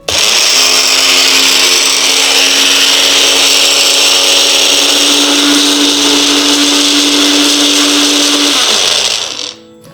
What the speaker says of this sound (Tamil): இப்போ நம்ம கருவேலம் பட்டை பொடி, இந்துப்பு மற்றும் லவங்க பொடி சேர்த்து அரைக்க போறோம்